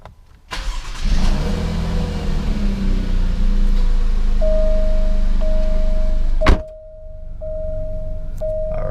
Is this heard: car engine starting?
yes